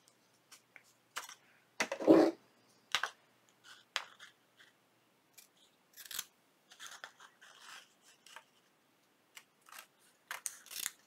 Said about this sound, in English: So I am going to cut me a little square.